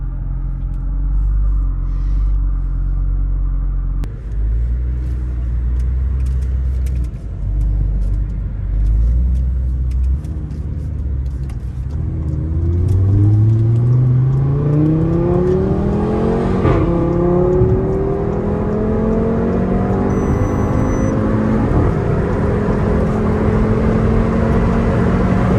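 An Audi RS3 accelerates in Dubai traffic. A deep rumble at idle gives way to a loud, rising engine whine that climbs steadily in pitch, heard close and alone.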